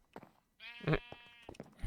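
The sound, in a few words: sheep bleating in a farming video game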